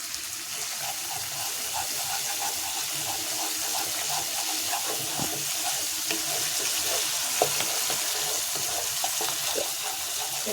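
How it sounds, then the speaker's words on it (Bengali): Fish masala sautés with coriander leaves in a pan, a constant close sizzle and hiss with scattered small pops and stirring scrapes, steady throughout with no talking. "ধনে পাতাটা দিয়েই কষাতে হবে।"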